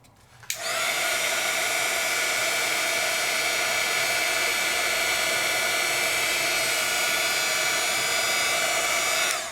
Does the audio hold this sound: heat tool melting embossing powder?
yes